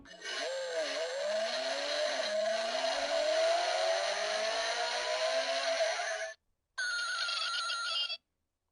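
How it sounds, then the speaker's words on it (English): A die-cast toy truck plays a recorded gas engine revving sound, a rising whine through climbing gear changes that cuts off briefly and then resumes for a short final burst, clear and close. "That's the sound of a gas car revving its engine, changing gears."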